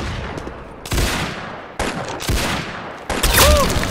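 Rapid gunfire in the Roblox game Arsenal on a beach map, loud bursts of shots crackling in quick succession with several sharp onsets, no voices over it.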